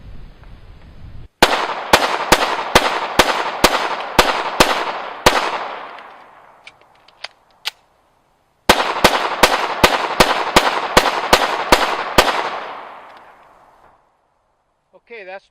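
Twenty rapid semi-automatic gunshots fired at a target on a range, in two bursts of about ten sharp, loud cracks each with a short pause between, each shot ringing out with a decaying tail.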